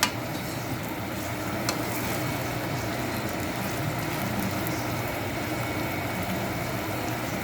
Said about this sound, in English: we're gonna let it sizzle some more